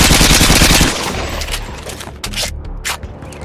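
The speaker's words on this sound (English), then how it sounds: "the firing sound in Modern Warfare 2 for the Scar was just, mwah" Burst of rapid automatic fire from a SCAR rifle in the video game Modern Warfare 2, loud and dense for about a second, followed by scattered sharper shots and echoing tails with no talk.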